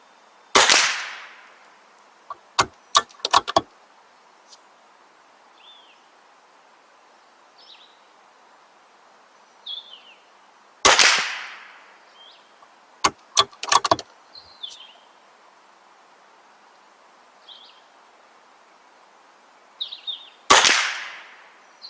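Three loud sharp cracks from a rifle with a floating barrel, fired at targets outdoors on a range, spaced about ten seconds apart, each followed by a few quick metallic clicks of the action and faint bird chirps in between.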